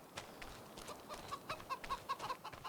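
Chickens in Farming Simulator 25 cluck in a quick run of short, soft clucks and chirps that grows denser toward the end, set over a low farmyard hum with no talk.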